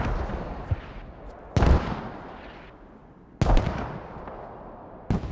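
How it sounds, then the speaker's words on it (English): Rifle fire in the military shooter game Squad, heard as three sharp, loud bursts spaced about two seconds apart, each ringing off into a booming tail over steady background rumble. "He goes for burst fire from this distance."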